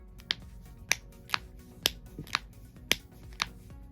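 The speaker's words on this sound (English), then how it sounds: "So both of them are able to provide that same little popping sound." Metal barrette snaps sewn into small fabric fidget toys popping one after another, about nine sharp, close clicks at an uneven rhythm over a quiet background.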